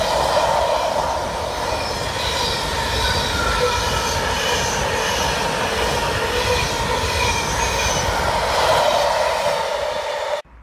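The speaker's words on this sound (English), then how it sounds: "Double header now with 66511 and 595, hauling a rather empty intermodal set." Two Class 66 diesel freight locomotives double-heading a nearly empty intermodal train roll past, a loud sustained rumble of engines and clattering wagons with wheel squeal, ending abruptly.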